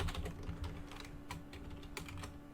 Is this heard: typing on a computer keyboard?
yes